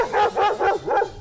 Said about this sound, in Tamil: பிக் பாஸ் வரலாற்றிலேயே முதன் முறையாக நைட்டு 1 மணிக்கு நாய் குலைத்ததற்கான காரணம் என்ன?